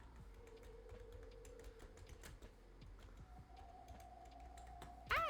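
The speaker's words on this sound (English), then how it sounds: "Sorry, I'm one-hand typing right now." Soft, quick clicks come from one-handed typing on a computer keyboard, irregular and faint under a steady low hum, with a short sharp sound at the end.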